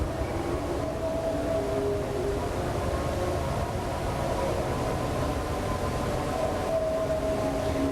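Steady wailing air raid sirens in Baghdad during Iraq War bombing hold long tones over a dense, continuous rumble of background noise, with no voices.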